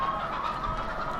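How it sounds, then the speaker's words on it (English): Chickens cluck in the Farming Simulator 15 game on the American Outback map, a short, steady burst of farmyard clucking with no talk. "And here's some of our chickens."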